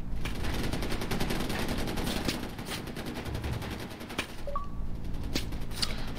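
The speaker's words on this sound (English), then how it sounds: "The firing that you hear, just these guys, they're just, you know, doing some target practice and stuff." Repeated gunfire from enemy target practice in Far Cry 4 on Xbox 360, with rapid cracking bursts at a moderate distance over a constant game ambience and a few isolated sharper shots.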